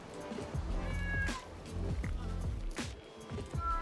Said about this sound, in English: There's a little orange kitty.